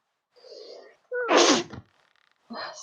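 A person sneezes once, loudly and up close, in a short sharp burst, with faint bits of other sound just before and after.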